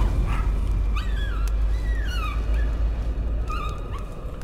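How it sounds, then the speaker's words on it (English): A dog in the Layers of Fear video game, giving a string of high whimpers and yelps with rising and falling whines over a low, constant rumble, fairly close and repeated several times. "Oh, a dog now."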